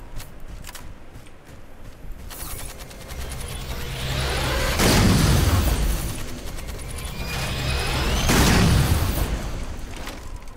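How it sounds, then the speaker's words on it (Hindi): Mantis vehicle blown up in a video game, with two loud blasts around five and eight seconds, each a broad booming burst that swells and decays over a rumbling, clattery game backdrop. "तेरा मैंटिस ही उड़ा दिया मैंने।"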